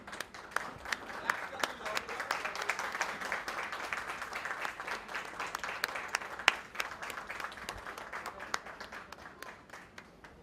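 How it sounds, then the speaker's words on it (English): Audience applause at a book launch event for the novel "The Forbidden One", a steady dense clapping from a crowd that fills the whole stretch at moderate loudness. "a round of applause for such an amazing book"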